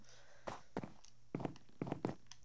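Footsteps of a character running in a video game: around half a dozen close, crisp steps landing in uneven quick bursts, with brief quiet gaps between them and no talking.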